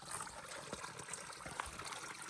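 A small stream of water trickles gently somewhere off a muddy backpacking trail in the Shining Rock Wilderness, a faint, steady babble heard from a short distance with no talking.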